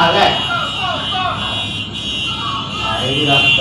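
Car horns honk steadily amid noisy street traffic, a continuous blaring tone running through the whole stretch while someone talks over it.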